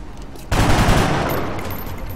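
Soldiers firing in the XCOM: Long War video game: a sudden loud burst of gunfire that hits hard, then decays into a rumbling tail over about a second and a half.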